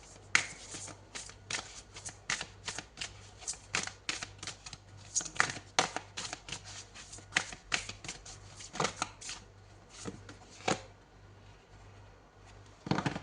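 Oracle cards are shuffled and drawn by hand, giving repeated crisp riffling and slapping bursts at an uneven rhythm, close up and fairly quiet, with no talking.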